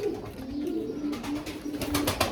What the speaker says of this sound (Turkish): Bu da benim agresif kuşum arkadaşlar.